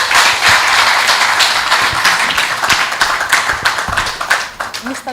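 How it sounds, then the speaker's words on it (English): Audience clapping for Ibadan at a talk-show style gathering, a lively burst of many hands with distinct individual claps that gradually thins out toward the end. "So please clap for Ibadan."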